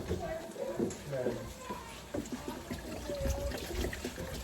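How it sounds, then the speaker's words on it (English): Water running into a cooking pot for boiling chicken, a steady trickling splash close by with faint clinks and shifting, under a busy household background. "I'm just gonna put some water in there and turn it on."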